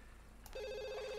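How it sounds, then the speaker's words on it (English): In The Sims 2, a telephone begins ringing after a brief click: a bright electronic ring tone that sets in abruptly and holds steady, fairly close, over a quiet background with no talking. "Come answer the phone."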